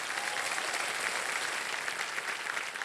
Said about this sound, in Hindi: गौरंग जी के लिए एक बार ताली बज जाए